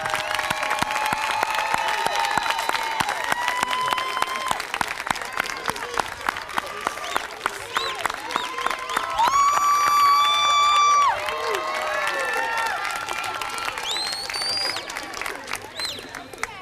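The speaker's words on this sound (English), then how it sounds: "Graduates, stand up and turn around and applaud to your parents" Commencement graduates stand, turn around and applaud their parents, a loud sustained round of clapping and cheering from a large crowd, with shouts and a voice speaking over it.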